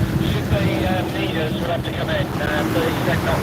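Racing powerboats at a sea race off Torquay roar across the water with a continuous engine drone mixed with wind noise, under a commentator talking throughout.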